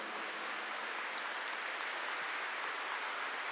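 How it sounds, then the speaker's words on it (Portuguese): A congregation at a church Bible-sharing service claps together, producing a steady, dense patter of many hands that sounds somewhat distant and subdued, with no one speaking. "Vamos aplaudir a palavra de Deus."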